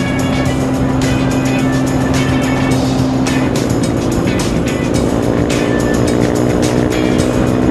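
Engine of a modified Kawasaki Barako motorcycle droning loud and steady close by on a Sunday road ride, a constant buzzing tone that shifts pitch partway through as the rider changes speed.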